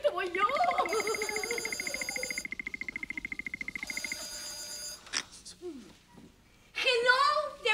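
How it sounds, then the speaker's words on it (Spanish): A telephone rings in a Spanish-language comedy scene, its bell sounding in two repeated bursts with rapid rattling pulses, then voices speak loudly afterward. "¡El teléfono!"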